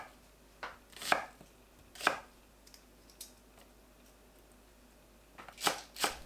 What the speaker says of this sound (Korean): 양파를 한 입 크기로 썰어줍니다.